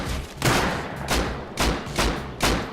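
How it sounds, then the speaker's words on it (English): Gunfire in the video game Rust: four or five loud, close bursts of shots spaced about half a second apart, each with a sharp crack and a rumbling tail. "I shot one guy."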